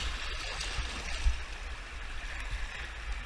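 Steady rushing and gurgling of a river flowing through a gorge, a moderately quiet, continuous wash of water close by with no talking.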